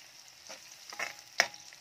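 Sliced red onions fry in a pan for a chicken curry, a soft steady sizzle broken by a few stirring scrapes and one sharper clatter near the end, close and fairly quiet with no talking.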